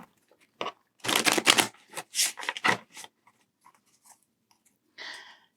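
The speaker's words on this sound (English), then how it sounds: "Let me give the deck a few shuffles." A tarot card deck is shuffled close by in a few quick riffling bursts with short pauses between them.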